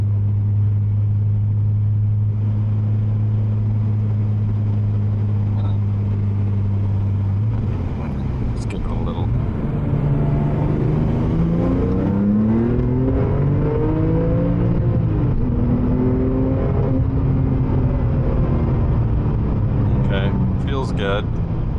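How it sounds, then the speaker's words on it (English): A Porsche 997 Turbo engine idles with a steady low drone, then revs up and down in rising and falling sweeps, loud and close, with a voice speaking over it. "But the car is definitely louder."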